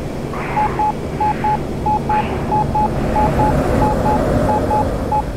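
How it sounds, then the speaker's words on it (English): The F-15C stall warning in the DCS flight simulator beeps steadily in evenly spaced pairs of short tones, repeating throughout over a low jet engine and wind rumble. "you'll pull the stick all the way back until you hear the beep-beep stall warning tone"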